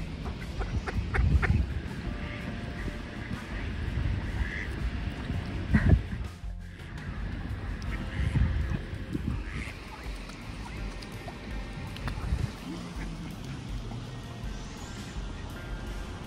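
Ducks quack from the water among swans and seagulls, with scattered calls near and far, a brief loud bump midway, and occasional voices over the outdoor background.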